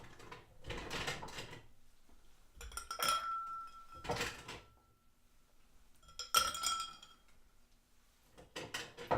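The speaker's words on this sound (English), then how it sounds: "And then finally, you'll add your ice." Ice cubes clink and clatter into a mixing glass for a Manhattan cocktail in a few separate bursts, close and fairly quiet, with short pauses between each drop.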